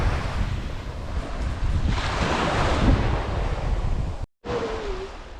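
Ocean surf washing onto a beach at Memory Cove in Australia, a loud, steady rush of broken waves heavily buffeted by wind on the microphone, with a brief dropout near the end and no talk.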